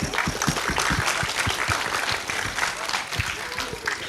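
Steady applause from a room full of people, a dense continuous clatter of clapping hands that holds for a few seconds.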